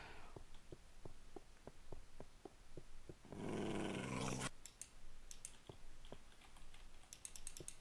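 A dog growls in the Minecraft video game, a rough burst in the middle of a quiet stretch filled with regular soft keyboard typing clicks, with no talk.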